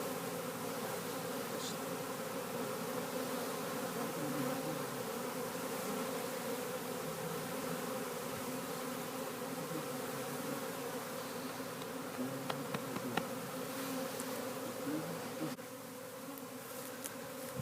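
Honey bees fly into a hive, a dense, steady buzzing hum close by that continues throughout with a few faint knocks near the end.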